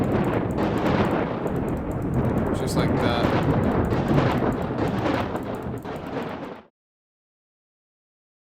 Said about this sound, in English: This is a crazy storm.